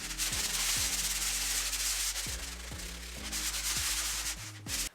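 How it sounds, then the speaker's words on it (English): An electric sander works against a wall up close, giving a continuous harsh rasping hiss with a low motor hum that shifts pitch repeatedly as pressure changes, and no talk. "So I'm going to sand back a few bits and then we'll get cracking."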